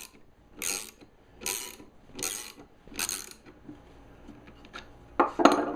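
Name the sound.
pulling a planer bearing with a Harbor Freight bearing separator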